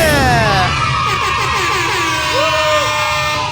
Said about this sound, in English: Busted out the air horns for KJ